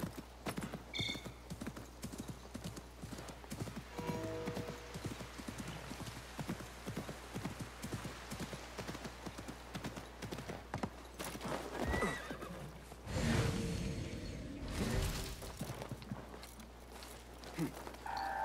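In Assassin's Creed Mirage, rapid horse hooves clip-clop steadily over a constant low hum, with a horse neighing partway through and a louder rush of sound near the end.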